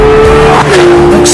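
A car cornering hard on its tires, with a loud, steady, high tire squeal holding over engine noise for about a second.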